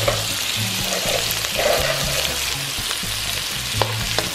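Onions and shrimp stir-fried in a hot pan for shrimp lo mein: a loud, continuous sizzle with rhythmic scraping and tossing strokes, close up and without talk.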